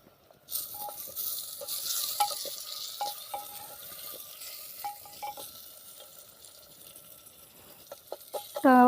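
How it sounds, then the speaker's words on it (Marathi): Onion and tomato for pav bhaji cooked over a wood-fired chulha, with a steady sizzle and intermittent light taps of a stirring spoon, close by, and a brief sharper clatter at the end. "यातच मी आता टोमॅटो टाकून घेते टोमॅटो पण चांगला आपला भाजून घ्यायचा"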